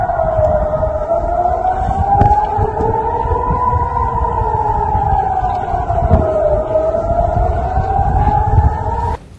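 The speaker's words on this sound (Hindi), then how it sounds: "हर तरफ आपको सायरन की आवाजें सुनाई देंगी।" An air-raid siren in Jerusalem wails, rising and falling slowly in pitch, loud and continuous throughout, with a low rumble of background noise underneath.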